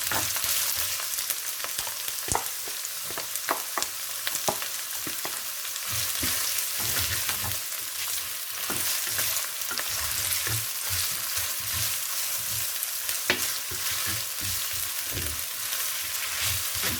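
Onions frying in hot oil for a Ghanaian meat pie filling, a continuous close crackling sizzle with soft stirring scrapes, steady throughout with no voices.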